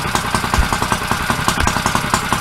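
A 212cc engine on a pit bike converted to a trike runs at a steady idle, with a continuous close chugging rumble and regular quick pulses, and no talking over it.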